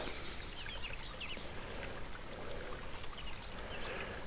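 Small clear mountain stream in the Welsh hills near Moel Famau, water bubbling out from under a stone, a steady close gurgle and trickle running alone throughout with faint birdsong in the background.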